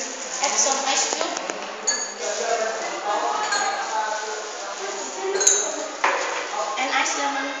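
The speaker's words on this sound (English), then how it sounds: "Finally, add some ice cube" Ice cubes drop into a glass of homemade iced lemon drink, giving several bright clinks and taps against the glass, close and clear, with a voice talking over them.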